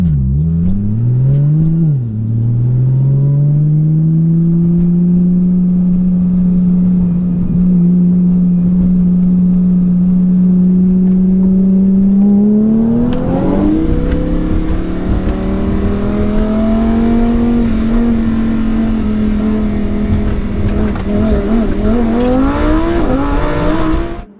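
Porsche Turbo S and twin-turbo Lamborghini Huracan in a drag race from a roll at about 40 mph in second gear, engines droning loudly and rising in pitch, with a sharp surge and shift midway as both keep pulling hard.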